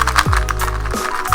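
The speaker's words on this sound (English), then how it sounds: "this is the original Tengyun 2x2 and sounds like this." An original Dayan Tengyun 2x2 speedcube, lubed and set up, gives a few quick close plastic clicks as its layers turn, about three short bursts in under two seconds with no one speaking.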